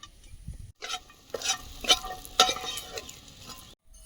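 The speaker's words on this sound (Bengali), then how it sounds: "তাহলে বড়ি কটা ভেজে নেব" Lentil dumplings (bori) frying in oil in a kadai, a sputtering sizzle broken by scraping stir strokes and a few sharp crackles, close and moderately loud, with a brief quiet gap near the end.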